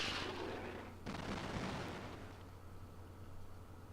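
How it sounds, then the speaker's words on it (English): Airstrike explosions in a video game on a Mega SG console, a sharp blast followed by a rumbling roar that slowly fades out over a steady low hum, with no talking. "Let's just use an airstrike here where there's loads of these motherfuckers all just grouped together."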